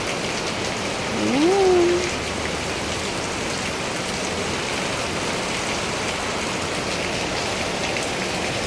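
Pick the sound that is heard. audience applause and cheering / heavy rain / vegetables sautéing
heavy rain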